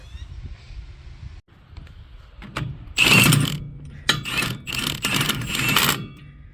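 Blade bolts being tightened on a Vermeer BC1000 XL wood chipper give a series of loud, close metallic clanks and ratcheting bursts after a quieter stretch of low mechanical noise.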